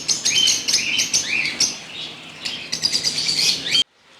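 Ringneck parrot breeder pairs in a bird shop chirp and tweet steadily in close, busy chatter, with brief bursts of wing flapping mixed in before the sound cuts off abruptly near the end.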